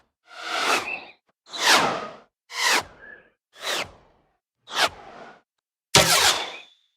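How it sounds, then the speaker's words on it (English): Six short, separate arrow whooshes for the Crowfall video game, each small but deadly with a Doppler pitch sweep, swelling and falling away with brief silences between passes. "get a good pitch-changing Doppler effect, kind of small but deadly whoosh"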